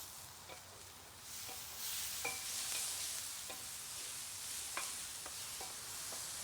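One sliced onion with a little salt cooks gently in a pan, giving a steady soft sizzle with occasional light scrapes and clicks, no voices.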